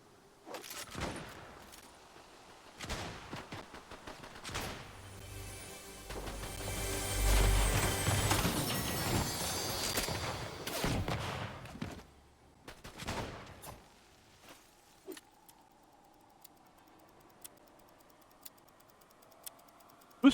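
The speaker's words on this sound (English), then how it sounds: "where are they shooting at me from?" Gunfire in the Fortnite video game comes as a dense rattling fusillade of rapid shots building in the middle and then thinning to a few scattered isolated cracks.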